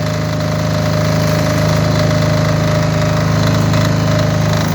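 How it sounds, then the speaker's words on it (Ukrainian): A COVAX KDE7000T diesel generator runs at a steady idle, close and loud, with an even mechanical hum and a constant rhythmic knock throughout, and no voices. "Тепер ми зупиняємо генератор і відпускаємо важель."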